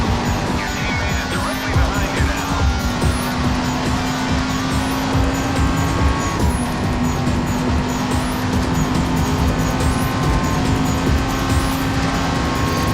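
An Audi race car accelerating in the racing game Race Driver: GRID gives off a loud, steady engine drone whose pitch shifts as it changes gear, with a faint whine over road noise throughout.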